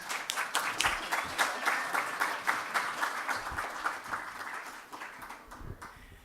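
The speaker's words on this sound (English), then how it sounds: "Let's give him a round of applause." An audience at a convention claps steadily for several seconds, a dense patter of many hands at moderate distance, fading slightly toward the end.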